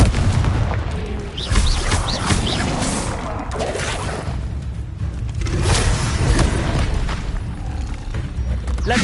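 Blasting-curse explosions in Hogwarts Legacy on PS5 boom and crash through a dense, loud battle mix, with repeated heavy bursts and rumbling impacts layered over continuous combat noise.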